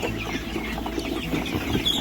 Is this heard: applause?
no